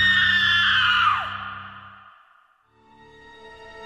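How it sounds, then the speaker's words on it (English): A single long, agonizing scream from a woman in a radio drama rises and falls, loud and close, then fades away into quiet before a low sustained tone follows. "and then one agonizing scream"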